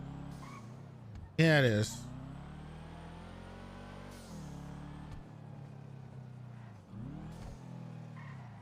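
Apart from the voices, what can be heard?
supercharged car engine revving in video game GTA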